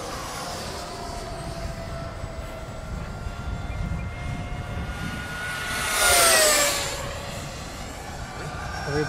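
Freewing 70mm Vulcan RC jet making low passes at a flying field, a distant turbine rumble that swells into a loud close whooshing pass at mid-clip, then fades away.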